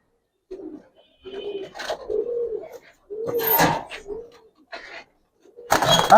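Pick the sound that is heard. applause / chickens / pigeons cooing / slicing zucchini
pigeons cooing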